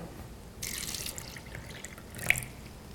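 Kangen water pours from a tap into a glass holding a tea bag, a short steady splashing stream with a single drip-like plop near the end, heard up close.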